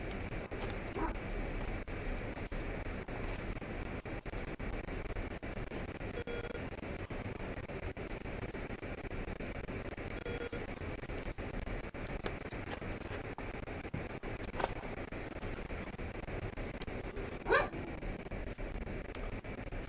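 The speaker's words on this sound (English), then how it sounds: "Sorry about the barking dogs" Dogs bark faintly in the distance with a few yips and whimpers, heard through steady static and background hiss, including one sharper bark near the end.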